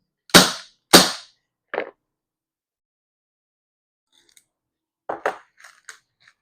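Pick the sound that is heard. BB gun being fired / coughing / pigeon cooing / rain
BB gun being fired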